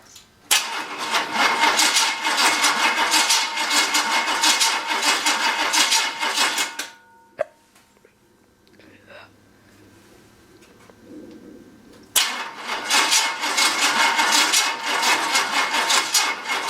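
A 350 V8 in a 1966 Chevrolet C-10 cranks and fires, roaring loudly for several seconds, cuts off into a quiet stretch with faint clicks, then starts again and runs loud and steady.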